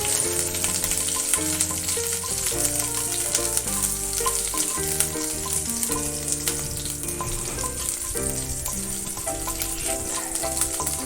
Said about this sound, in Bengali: মশলাটা একটু ভেজে নিলাম